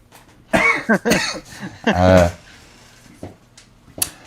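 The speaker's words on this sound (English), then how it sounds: "A toke cough. Yeah, that's what a toke cough is." A few harsh, sputtering coughs close to the mic, with a raspy vocal strain mixed in, then quieter rustling and a final short cough.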